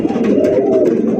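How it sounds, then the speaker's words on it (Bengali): Large silver Lahori pigeons coo loudly and close up, a steady rounded burbling tone that runs unbroken for a moment with no voices over it. "বিশাল সাইজের লাহুরি কবুতর, সিলভার লাহুরি কবুতর।"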